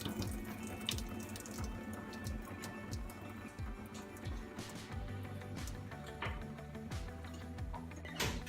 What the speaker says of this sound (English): you need a parent or guardian to help you strain the water out of the pot